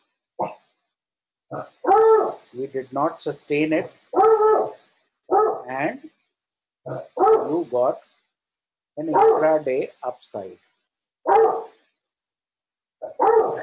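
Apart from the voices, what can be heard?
dogs barking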